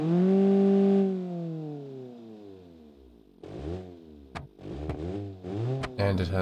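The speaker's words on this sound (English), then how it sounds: "Oh, that sounds funny. 4-cylinder. Yep, little 4-cylinder." Little four-cylinder engine on a crawler vehicle revving in BeamNG.drive, first a loud sustained drone that falls away, then a series of quick rising and falling revs with sharp clacks between, close and without talk.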